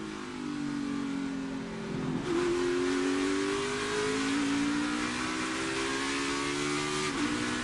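NASCAR race cars blast through a short straightaway on a road course. Their loud engines climb steadily in pitch, drop briefly on shifts, then wind back up with continuous close roaring.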